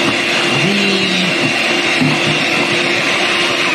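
A countertop blender whirs steadily through peach halves for pound cake batter, a loud continuous motor drone with a slight change in pitch partway through as the fruit breaks down, no voices.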